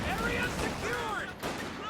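Battlefield gunfire and artillery from the video game Company of Heroes 2 crack and thud in the background, with a sharp burst near the end, while someone talks over it.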